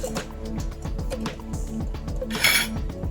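A metal strainer, colander, bowl and kitchen utensils clatter and clink as they are set out on a counter for Southern baked white macaroni and cheese, a steady run of close knocks with one brighter ring near the end.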